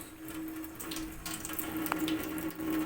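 Water running steadily onto potted flowers during a night-time plant watering and cleaning, a soft continuous flow at moderate distance with faint tap-like hiss throughout.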